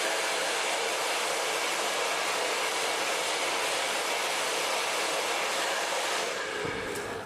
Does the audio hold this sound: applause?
no